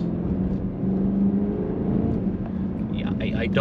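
A 2024 BMW X6 M60i in Sport Plus mode gives a steady, low engine drone during a downshift, with a faint rising whir near the end and a voice talking over it.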